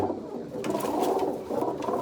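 A female pigeon coos close by, a soft throaty rolling call that swells and dips in two or three pulses over a brief stretch, heard on its own without talk.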